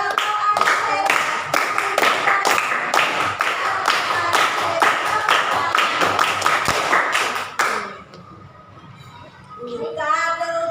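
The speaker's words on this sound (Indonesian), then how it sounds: "Kalau kau anak hebat tepuk tangan" A class of fifth-grade children claps hands in quick rhythmic bursts during a classroom song, loud and close, with children's voices mixed in; the clapping stops near the end, leaving softer singing.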